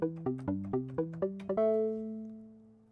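Velocity-sensitive pluck synth patch played in the Helm synthesizer: six quick plucked notes with varying loudness, followed by a longer held note that rings out and fades, alone and clear.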